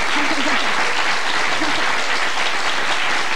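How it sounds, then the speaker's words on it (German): Studio audience applause at a German comedy quiz show, dense steady clapping filling the whole stretch at close range with no talk over it. "Da klatscht ihr."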